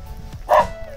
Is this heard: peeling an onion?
no